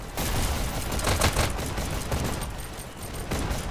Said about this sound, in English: Warner's popping off here with the pistols